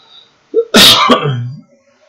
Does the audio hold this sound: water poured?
no